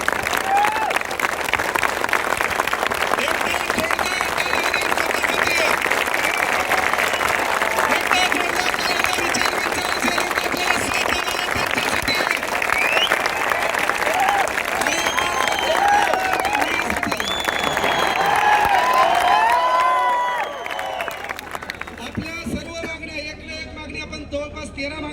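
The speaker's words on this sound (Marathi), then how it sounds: "एकदा जोरदार टाळ्या होत्या आपल्या मायबापासाठी" A crowd at a student protest in Chhatrapati Sambhajinagar breaks into loud, sustained clapping mixed with voices, the dense applause holding for about twenty seconds before thinning out into scattered claps.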